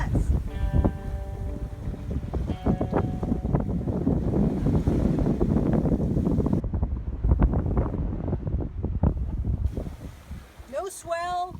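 A sailboat moves at speed on flat seas off Mexico, with constant wind buffeting and rushing water close to the microphone, ending with a short voice.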